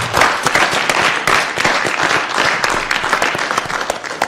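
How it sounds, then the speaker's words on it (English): A crowd at a board meeting applauds steadily with dense, loud clapping that continues throughout without pause. "let's first give Bernie a round of applause"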